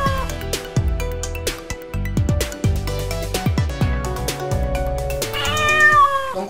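A Scottish Fold cat gives a soft meow near the end, rising over steady melodic background music with piano-like notes.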